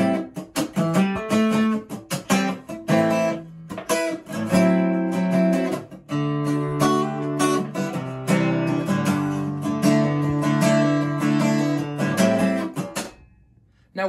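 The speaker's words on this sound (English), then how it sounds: "which is going to cause a short echo, otherwise called a slap delay," Music played in a small room, thickened by a short slap-delay echo bouncing off close walls; busy melodic instrument notes carry steadily at moderate level for about fourteen seconds before fading at the end, with no talking.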